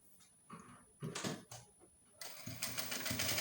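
A sewing machine stitches a busk onto a corset in short, stop-start bursts of rapid mechanical whirring, growing into a longer continuous run at the end.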